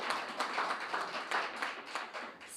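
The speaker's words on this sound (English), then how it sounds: "Let's clap the teams once more." An audience claps for the debate teams at a semi-final match, a soft, steady patter of many hands at a modest distance with no voices over it.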